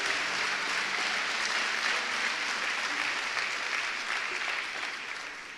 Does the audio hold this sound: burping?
no